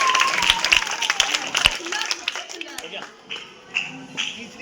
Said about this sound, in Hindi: तालियां बजाओ, तालियां हो जाए। साक्षी के लिए।